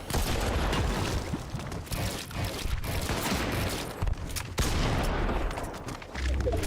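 Rapid gunfire from a battle royale video game, a loud dense fusillade of overlapping shots and bursts running continuously throughout with a few brief gaps.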